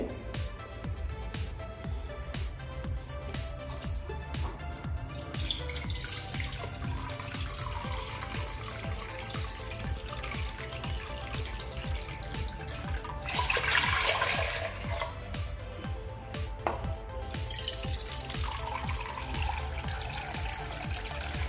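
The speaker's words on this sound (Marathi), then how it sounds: "त्या कुकरमध्ये मी आता ह्या दोन ते तीन वाट्या पाणी" Water poured from a bowl into a pressure cooker heating on a gas stove at high flame, for cooking rice; a steady, soft continuous pour and splash that swells briefly midway.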